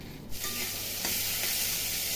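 Sliced bitter gourd fries in a pan with a steady close sizzle, and a utensil stirs and scrapes through it a couple of times.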